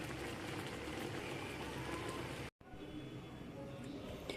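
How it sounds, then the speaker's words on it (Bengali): Mangoes being washed in water for a spicy sweet-sour pickle, heard as steady close sloshing and splashing that stops briefly partway through and then resumes. "প্রথমে আমগুলোকে ভালো করে ধুয়ে নিচ্ছি।"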